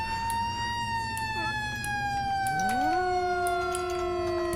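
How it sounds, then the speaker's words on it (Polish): Police siren in the Flashing Lights emergency-services video game, a loud sustained wail that sweeps down and shifts to a new steady tone partway through, with engine hum underneath. "I ja właśnie odpalam syrenę już."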